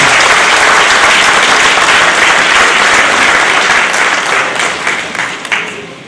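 Loud, dense applause from the audience at an association inauguration celebration, sustained for several seconds and thinning slightly toward the end with a few scattered individual claps.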